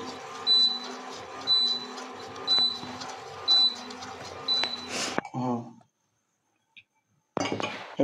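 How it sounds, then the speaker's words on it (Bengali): A spoon clinks rhythmically against a glass or cup while filter coffee with chicory is stirred to raise froth, five light taps about a second apart, then a louder clatter and a short pause before more handling. "এবার এটাকে যত নাড়তে থাকবে তত বেশি ফেনা তৈরি হবে।"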